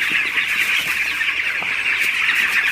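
Broiler chickens cluck in a dense, continuous flock chorus, close and loud, with overlapping calls and no voices.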